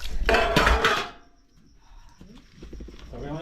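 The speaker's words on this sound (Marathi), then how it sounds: "इकडे सगळे भांडी घासत आहेत" Dishes being scrubbed and rinsed after a village meal, a loud clattering rush of metal pots and water up close, then quieter scattered clinks and scraping with faint voices in the background.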